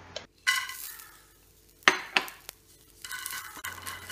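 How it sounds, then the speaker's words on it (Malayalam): Dried prawns frying in a frying pan: a close sizzle that comes and goes in bursts, broken by sharp clinks and knocks of a utensil stirring against the pan. "ഉണക്കച്ചമീൻ ആദ്യം വറുത്തെടുക്കുന്നു. ഫ്രൈ പാനിട്ടിട്ട് വറുത്തെടുത്ത്"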